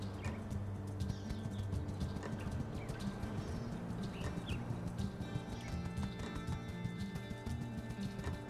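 Horse galloping in the video game My Time at Sandrock, a steady rapid clip-clop of hooves with occasional neighing over an ambient outdoor game soundscape.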